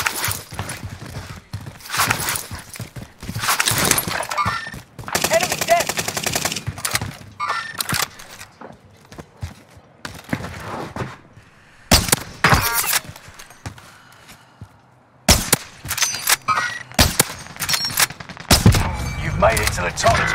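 Bursts of gunfire from Swiss K31 and OTs 9 guns in a Warzone battle on Rebirth Island, with repeated loud volleys and shorter single shots spread through the scene, separated by quieter gaps.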